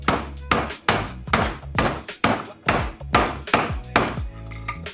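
Hammer blows drive a steering head bearing into place on a Harley Davidson, about ten sharp metallic strikes in a steady, close rhythm, each ringing briefly before the next hit.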